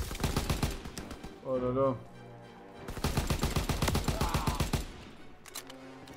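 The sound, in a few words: gunfire in video game Call of Duty WW2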